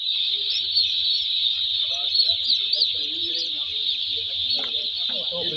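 Chickens in a Pakistani poultry house cluck and chirp over a loud, constant high-pitched ventilation or machinery whine, with a voice talking in the background.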